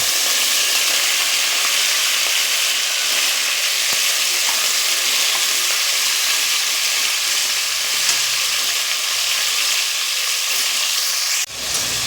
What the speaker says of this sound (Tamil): இப்போ இந்த கழுவி வச்ச சிக்கனை சேர்த்துக்கலாம். இது எண்ணெயிலே நல்லா வதங்கட்டும்.